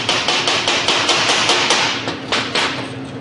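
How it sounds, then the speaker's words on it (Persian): A hammer chips slag off the back of a root-pass weld made with a 60-series electrode, giving a steady run of sharp metallic taps, roughly four per second, loud and close with no talking. "گل جوش رو از پشت میزنم"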